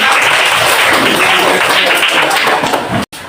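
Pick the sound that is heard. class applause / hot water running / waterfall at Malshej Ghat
class applause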